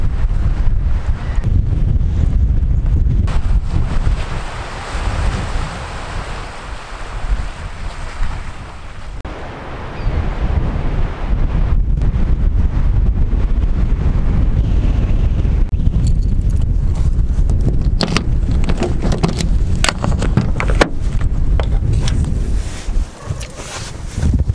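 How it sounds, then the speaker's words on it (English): Strong wind on the Newfoundland coast ahead of a storm roars loudly and continuously into the microphone, blended with a rush of surf, easing briefly before surging back. "It's windy."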